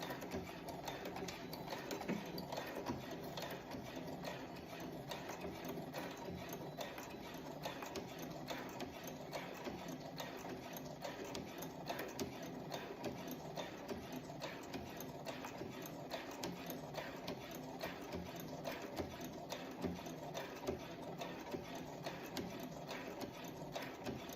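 A sewing machine back stitches the facing onto a dress collar, its needle hammering in a fast, steady mechanical rhythm that runs unbroken and close throughout.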